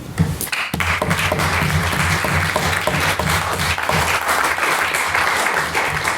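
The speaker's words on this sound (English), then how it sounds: "another round of applause for Jack" Audience applause follows a speech at a formal debate, a loud sustained wash of clapping from a full crowd lasting several seconds without letup.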